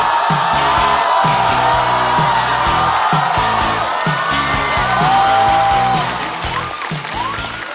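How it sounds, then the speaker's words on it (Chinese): A live comedy club audience, including people on the upper floor, applauds and cheers to welcome stand-up comedian Gao Han, with loud sustained clapping, whoops and shouts throughout before easing slightly near the end. "掌声欢迎高寒"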